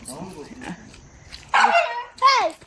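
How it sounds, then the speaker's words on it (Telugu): A dog barks angrily in two loud, harmonic bursts near the end, each a growly yelping bark, after a stretch of a person talking and fainter whimper-like sounds. "కుక్క కోపం వచ్చిందండి. చూడండి ఎలా అరుస్తుందో"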